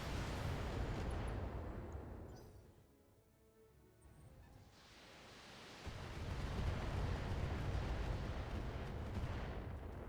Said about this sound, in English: That was a lot of missiles.